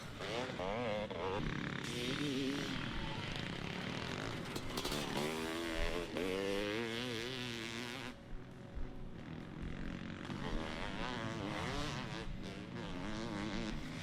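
A Honda CR 500 and a Kawasaki KX 500 two-stroke motocross bikes ride together, engines rising and falling in pitch as they rev, with someone talking over the motor noise.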